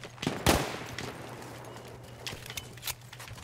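Battlefield 1 gunfire in the Argonne Forest: a loud close shot or short burst up front, then scattered quieter distant shots over a low background hum.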